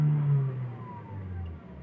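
A 2018 Toyota Vios engine revving during an RPM check, a short mid-pitched rev that swells at the start and then settles to a lower, steady idle drone.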